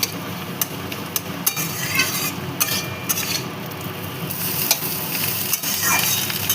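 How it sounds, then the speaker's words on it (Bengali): Fish roe cooked in a masala with garam masala sizzles steadily in a pan, broken by scattered sharp scrapes and taps of a spatula stirring it, close and fairly loud with no voices. "দেখুন প্রায় ভাজা ভাজা হয়ে গেছে।"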